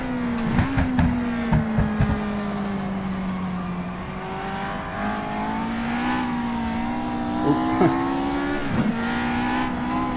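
A racing car laps Silverstone, its engine holding a steady droning note that rises and falls through gear changes and braking, with brief sharp transients; loud and close throughout, no talk.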